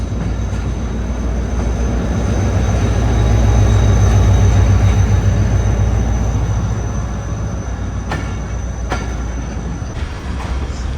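An XGMU locomotive train rumbles at Nawabshah station with a loud, deep, continuous roar, rail clatter and faint squeals on top, nearby and without talk.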